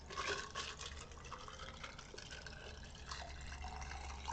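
A glass is refilled with water, a faint continuous trickle and pour with small splashes under a low background hum.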